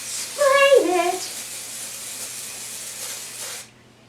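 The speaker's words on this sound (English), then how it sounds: "Dry shampoo. All kinds of people make them. I like L'Oreal. And what you do, hold it about 10 inches, spray it," L'Oreal dry shampoo sprays onto a wig in a steady, close, breathy hiss lasting about three seconds and then cutting off sharply, with a voice speaking briefly over its start.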